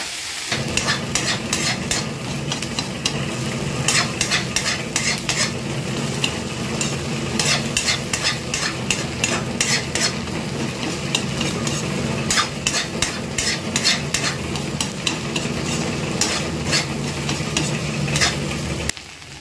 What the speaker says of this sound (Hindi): थोड़ा सा गैस की आँच कम करके इसको कंटिन्यू एक मिनट चलाना है बस।